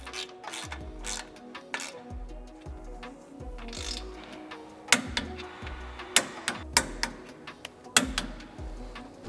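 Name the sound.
tightening M10 bolts on a Cybertruck winch mount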